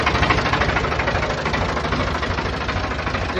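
A 1988 Ford 4610 tractor with a Ford 201 cubic-inch diesel of about 65 horsepower idles as it warms up before an oil change. It gives a loud, close, steady clatter with a fast, even knock.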